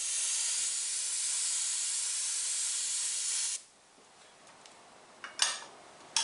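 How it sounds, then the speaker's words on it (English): An aerosol can sprays white paint onto a chrome SS396 emblem in one long, steady hiss that cuts off abruptly, followed by a few faint clicks and knocks. "spray it white."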